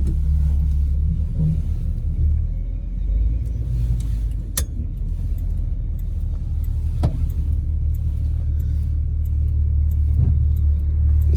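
A 1965 AMC Rambler Marlin with a 327 V8 idles steadily as it warms up, a deep continuous low rumble heard up close with a few faint clicks and knocks, and no voices.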